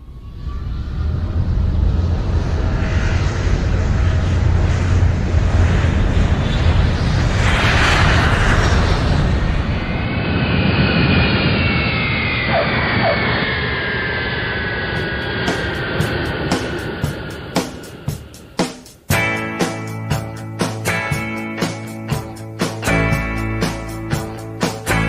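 Jet aircraft engines firing up: a loud, sustained broadband roar with whining tones that climb and build steadily, then give way to choppy, stuttering bursts near the end.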